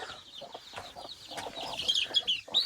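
Several high, thin chirps from a chick being caught by hand come in short bursts toward the end, over scuffling and soft clucking from hens nearby.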